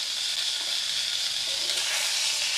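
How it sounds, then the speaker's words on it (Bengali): Eggplant pieces fry in a pan with potato, thin tomato slices and green chillies for a Rajasthani-style aloo begun, stirred as they cook; a loud, steady hiss of sizzling oil runs unbroken throughout. "এখন এরম নেড়ে নেড়ে একটু ভেজে নেবো।"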